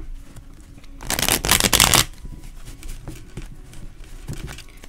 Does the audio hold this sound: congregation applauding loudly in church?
no